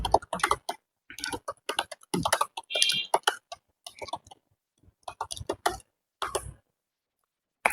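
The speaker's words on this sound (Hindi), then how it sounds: "स्टार्ट कर दो, स्टार्ट टाइपिंग।" Rapid keystrokes on a computer keyboard during a backspace-free typing drill, clicking in uneven bursts and short runs with brief pauses, close and fairly quiet, with no talk over them.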